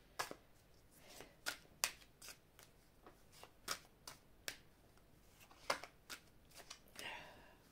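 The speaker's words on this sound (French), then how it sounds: "Je vais prendre les cartes de l'oracle du monde ici." Oracle cards being shuffled by hand, giving a run of crisp, close riffling and snapping bursts at irregular intervals over a quiet room, with no talking.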